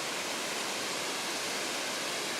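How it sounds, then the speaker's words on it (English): Waterfall at Hug Point on the Oregon coast, flowing with good volume, a steady, dense rushing roar with no pauses or voices. "now it's got a nice volume to it"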